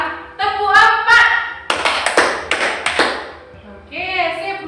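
A classroom of children claps in short rhythmic bursts on a teacher's cue, sharp hand claps in quick clusters with a voice speaking before and after.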